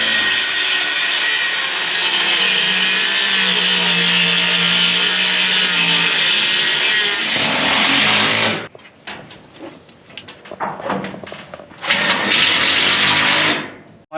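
Power saw cutting through plywood sheets, a loud sustained buzzing cut for about eight seconds, then shorter bursts and rasps as the blade works the wood, ending with another steady cut.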